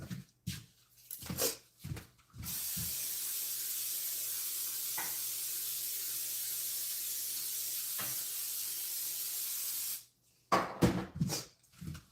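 Baking spray hissing from a can onto cake tins in a kitchen, a steady spray lasting about eight seconds, framed by shorter hissing bursts before and after, fairly close.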